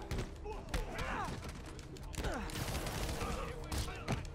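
Gunfire in the 2018 game Marvel's Spider-Man: dense, rapid bursts of shots and thuds mixed with swooping game effects and other game sounds, continuous and fairly loud.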